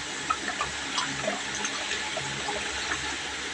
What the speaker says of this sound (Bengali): এই বড় বোতলে তিনবার করে ধুয়ে নিলাম